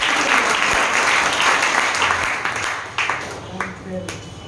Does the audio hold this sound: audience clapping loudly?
yes